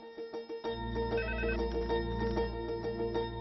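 A phone ringtone plays a bright, repeating electronic melody over a low hum, preceded by a few soft thumps.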